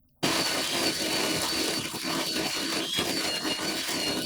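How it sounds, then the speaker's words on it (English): A DeLonghi La Specialista Touch with a 40mm conical stainless steel burr grinder starts abruptly and grinds coffee: a loud, steady, fairly high-pitched motor whir with a gritty crunch, close up and uninterrupted. "The grinder does sound quite loud to me, but I think it's just the fact that it's a bit of a higher pitch motor sound"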